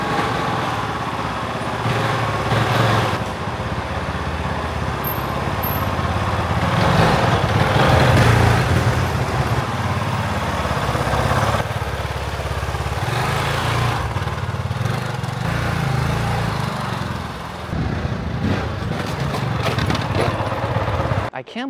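A 2024 KOVE 450 Rally motorcycle engine drones steadily up close, rising and falling as it rides inside a store, with voices talking over it at times.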